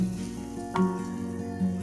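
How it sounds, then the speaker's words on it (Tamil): Water heating in a cooking pan on a stove for butter rava kesari, with a steady low bubbling and sizzling hiss that keeps going for under two seconds, plus a brief louder splash near the middle. "பாருங்கள் ஃப்ரெண்ட்ஸ், கொதிக்க ஆரம்பிச்சிருச்சு."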